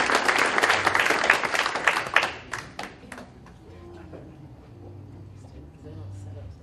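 Audience applause at a luncheon, brisk clapping in a hall for about three seconds before it thins out into scattered claps and quiet room tone.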